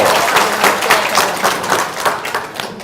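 Audience applause, a loud steady burst of many hands clapping close by, continuous with slight surges, no talk over it.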